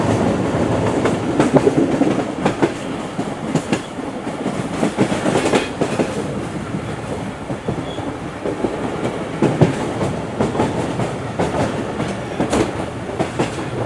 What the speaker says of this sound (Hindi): बेंजासिम रेलवे स्टेशन पर अप्रोच बना रही है ट्रेन हमारी 5:20 पर